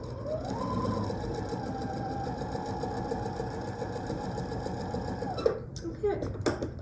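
A sewing machine stitches fabric in one steady, loud, continuous whir with a clear motor tone. It stops near the end, and then come a few clicks and handling noises.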